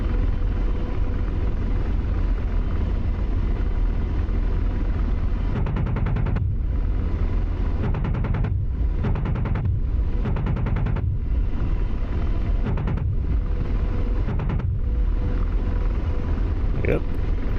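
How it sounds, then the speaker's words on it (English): AH-64 Apache cannon in the DCS flight simulator fires in several short bursts, sharp rapid reports punching through a steady loud rotor and engine drone that runs throughout. "So, I'm going to use the gun"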